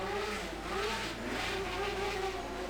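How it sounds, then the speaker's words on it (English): Car engines rev outside, as in a biker gang gunning their motors, a loud continuous roar with rising and falling pitch sweeps heard from a distance, layered and unbroken, with no one speaking. "The men were needlessly gunning their engines and filling the air with explosive screaming."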